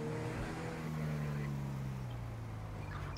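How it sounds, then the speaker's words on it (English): Car with a flat tire driving in the police video game LSPDFR, a steady engine drone with shifting pitch and a low rumbling under the tone, continuous and moderately loud. "we've got a car up here that's driving, sounds like, with a flat tire."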